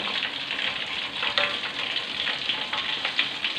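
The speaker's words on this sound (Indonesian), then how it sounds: "Ini saya angkat, terus saya masukkan di dalam sambalnya" Fried chicken is stirred into balado chili sambal, giving a steady close sizzling and frying hiss with soft scraping stirs throughout and no talking.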